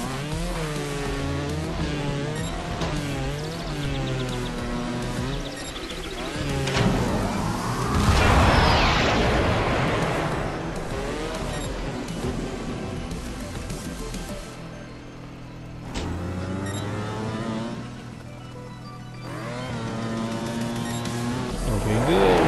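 A motorbike engine in the video game Trials Fusion, droning and revving loudly the whole time with pitch sweeping up and down as the throttle rises and falls, plus a burst of crashing noise midway.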